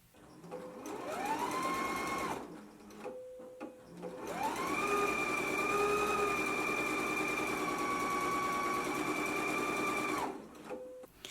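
A sewing machine stitching the side seam of a dress skirt, running in two steady whirring runs with rising motor pitch, separated by a short pause, loud and close with no talk.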